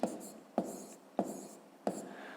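Pen or chalk writes numbers during a fifth-grade math lesson, four evenly spaced strokes each beginning with a sharp tap and trailing into a short scratch, close and fairly quiet.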